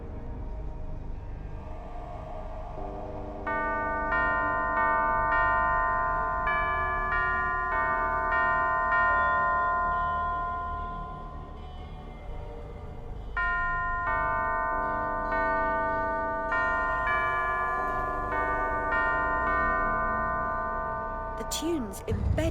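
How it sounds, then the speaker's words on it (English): A sequence of chiming bells plays in Alice: Madness Returns as a melody of bright, ringing tones, each struck note sustaining and overlapping, with a short pause midway and a brief sharp sound at the end. "Only by playing the correct sequence of bells can it be opened."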